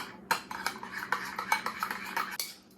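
Cutlery clinking against a bowl while a salad dressing with nutmeg is stirred, a quick series of sharp, close taps in an uneven rhythm.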